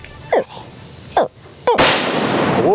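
A single gunshot is fired at an alligator at Alligator Alley in Osceola, a sharp loud crack followed by a burst of noise, after two brief shouts from people nearby.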